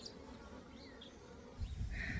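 Honey bees swarm around a freshly split hive outdoors, a steady droning buzz that swells louder near the end as more insects close in.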